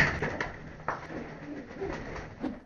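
Caged decoy wood pigeons coo at a palombière hunting site in southwest France, soft repeated low coos close by over light background noise, with a few rustles and no talk.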